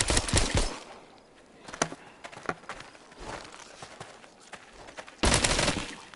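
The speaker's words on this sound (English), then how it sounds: "Oh, dang, I didn't mean to shoot it that much." Repeated gunshots ring out in several bursts: a loud volley at the start, scattered single shots through the middle, and another heavy burst near the end.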